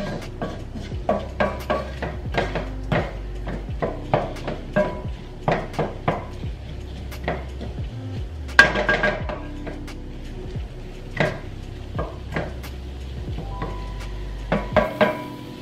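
A utensil stirs a vegetable mix in a pan, clinking and scraping in a loose, steady rhythm of close, distinct knocks with faint background sizzle and no voices.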